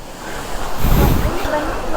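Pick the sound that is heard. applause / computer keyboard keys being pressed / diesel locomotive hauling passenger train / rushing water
rushing water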